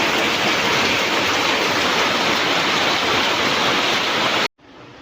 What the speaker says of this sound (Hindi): आज बहुत बारिश हो रहा है। देखिए एकदम बहुत ज़्यादा बारिश।